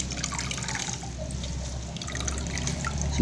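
Water drips and trickles as rinsed papaya flowers are squeezed out by hand over a bowl, soft close splashing and dribbling with no talk.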